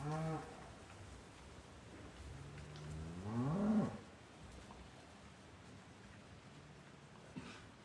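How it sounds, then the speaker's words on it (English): Cows and bulls of a mixed herd low near a church across a small stream; one loud, drawn-out moo rises and falls midway, with a fainter low call at the start and quiet outdoor ambience between. "these are like magnificent beasts, quite loud. It looks like there's mixed cows and bulls"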